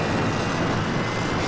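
Airplane engine in a vehicle sandbox video game, a dense steady drone with broadband rush, loud and continuous for a brief moment with no voices.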